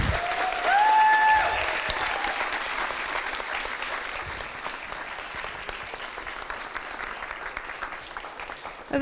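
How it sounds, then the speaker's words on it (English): Audience at a university spring symposium breaks into sustained applause, loud at first and tapering gradually over about nine seconds, with a few voices underneath. "Let's give her another round of applause."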